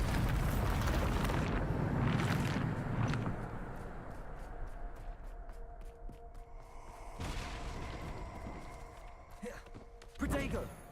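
A Bombarda blasting-spell explosion in a Harry Potter video game sounds as a loud roaring burst at the start that fades into a rumbling tail. Later come softer game sounds and a brief second thump near the end.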